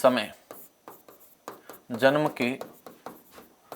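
Pen or chalk scratches out lesson notes in short strokes during a classroom lecture, the writing sounds close and dry and mixed in with a teacher's ongoing talk.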